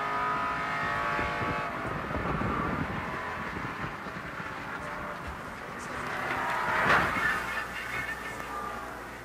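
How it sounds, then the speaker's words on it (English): In-car camera audio from a NASCAR Winston Cup race car at the 1989 Valleydale Meats 500, engine drone and tire scrub as the car slides across the track, swelling toward a loud burst near the end. "here again is a replay from the in-car camera of Brett Bodine. This is the real time, and we'll let you listen to what happened."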